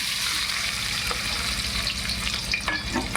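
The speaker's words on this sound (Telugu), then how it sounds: "అనాస పువ్వు, యాలుక్కాయలు, జీలకర్ర ఇవి కొంచెం వేగాలి." Star anise, cardamom, cumin and onions frying in oil for tomato rice, a steady loud sizzle close by with occasional stirring scrapes.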